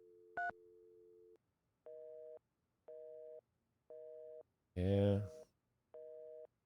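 Telephone busy signal after a misdialled number: a steady tone and a short beep, then a run of evenly spaced tone bursts repeating about every second, with a brief spoken word between them.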